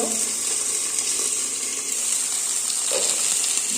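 Chickpeas sizzle and fry steadily in a pan, a close, even hiss with faint stirring scrapes throughout and no voices.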